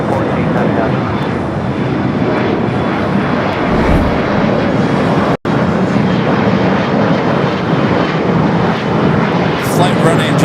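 A Boeing 787 Dreamliner jet arriving at LAX roars loudly and steadily as it passes, a broad continuous engine rumble lasting throughout, with a voice talking over it.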